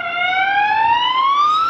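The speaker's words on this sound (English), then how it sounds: "that is a ambulance." An ambulance siren with a rising wail, loud and steady, sounding close as it passes, with no talk over it.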